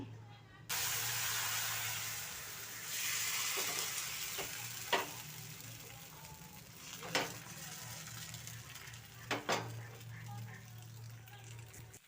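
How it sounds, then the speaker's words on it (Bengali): A ladle of parboiled rice and urad dal batter hits an oiled pan for soru chakli pitha, setting off a soft sizzle that swells into a steady hiss, with a few utensil clicks. "এবার প্যানের মধ্যে এক হাতা ব্যাটার নিয়ে দিয়ে দেবো"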